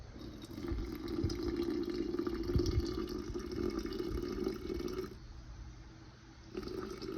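Warm water poured steadily into a container to feed an active sourdough starter, a continuous close splashing stream that dips briefly near the end and then resumes, with no talking.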